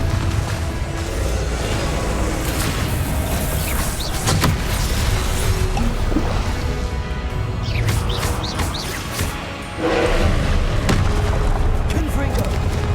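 Confringo fire spells explode during Hogwarts Legacy combat amid other spell effects, dense booming blasts layered with whooshes and crackles, with a fresh loud burst near the end.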